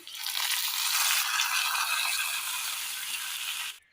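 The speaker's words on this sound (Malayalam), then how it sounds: "കടുക് താളിച്ച് ചേർത്ത് കൊടുക്കാം" Mustard seeds crackle and sizzle loudly in hot tempering oil as it is poured into a vegetable curry, a dense continuous spatter lasting a few seconds before cutting off.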